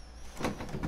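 A door slides or swings in the video game Life Is Strange 2, a brief soft whoosh with a light rattle, faint and quick.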